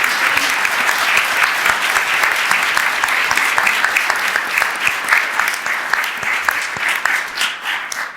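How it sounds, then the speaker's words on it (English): At a Montebello city council meeting, a room full of people applauds first responders with thick, continuous clapping that holds steady for several seconds and thins slightly toward the end. "Can I have a big round of applause for our first responders?"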